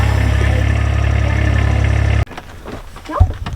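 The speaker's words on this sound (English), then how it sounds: "this is your machine, your Kubota" A Kubota tractor on a Christmas tree farm idles with a loud, steady low rumble that cuts off abruptly partway through, leaving quieter outdoor sounds and a brief thump.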